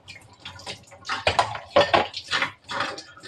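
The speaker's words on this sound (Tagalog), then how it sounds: "Kaya dandahan ang paghuhugas natin ng kutsilyo" Kitchen knife and dishes being washed by hand at a sink, with close clattering of cutlery and plates and splashing water in irregular bursts, loud and near, no voices.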